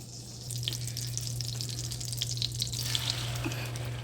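Scrambled eggs with tomatoes and green onions sizzle in a pan, a steady close crackle over a low hum, with soft scrapes and clinks as they are stirred.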